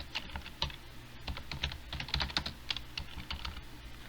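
Rapid, uneven clatter of keys as code is typed on a computer keyboard in the NetBeans IDE while writing a Java class, steady close-up keystrokes with no talking.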